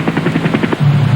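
A military helicopter flying at 70 knots while laying mines with an M56 dispenser, its rotor pulsing in a rapid, loud, close thumping rhythm over a steady turbine drone.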